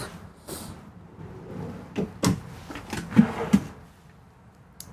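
Drawers in the living quarters of a 2023 Cimarron Norstar five-horse trailer slide open and shut with several soft knocks and clunks, spread over a few seconds in a quiet interior.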